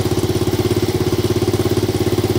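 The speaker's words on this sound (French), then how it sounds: "Un bon régime, on va laisser donc le moteur chauffer un peu" A Honda DAX motorcycle engine idles steadily after a kick start, a close, loud, rapid even putter with a regular pulsing beat throughout.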